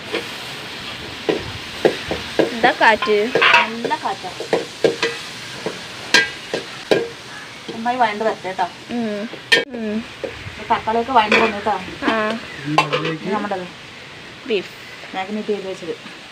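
Onions sizzle and fry in a pan, stirred steadily for golden colour, with a constant frying hiss beneath continuous nearby talk.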